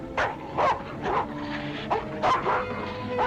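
Dog barking and yipping in the 1940 film The Thief of Baghdad, about five short, whiny barks spaced irregularly across a few seconds, fairly close, with a faint tonal background beneath.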